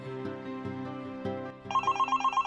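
A telephone rings indoors, first with a low melodic ringtone phrase, then with a brighter series of rapid repeating electronic beeps, loud and alone.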